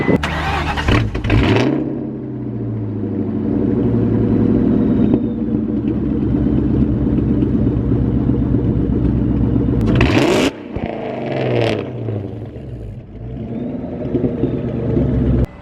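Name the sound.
supercharged car engine starting up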